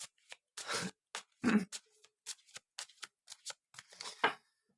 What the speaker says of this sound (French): j'ai un peu plus de mal à mélanger aujourd'hui